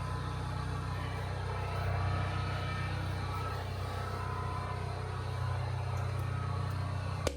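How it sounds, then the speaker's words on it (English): An air compressor for air tools runs continuously in a garage, giving a steady low droning rumble at moderate level that ends in a sharp click right at the end. "excuse the noise in the background from the compressor that runs the air"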